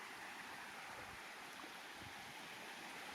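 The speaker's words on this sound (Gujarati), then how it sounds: "એવડું પાણી નીકળીને જાય છે" Rainwater runoff gushes out of a field channel and flows straight into a dam after a monsoon downpour, making a steady, loud rushing of water with no voices.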